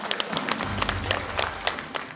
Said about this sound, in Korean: 다시 한번 힘찬 박수로 축하해 주시기 바랍니다.